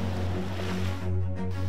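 Ocean surf washes onto a long beach at Karangwangi where locals net fish along the shore. It makes a steady roar with a low constant hum and some wind buffeting, and no voices are heard.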